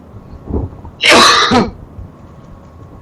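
A single loud, raspy cough close by, with a faint throat sound just before it.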